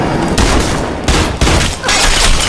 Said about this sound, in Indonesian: Riley yang sudah kehilangan kepercayaannya terhadap hukum tetap menembak Diego tepat di kepalanya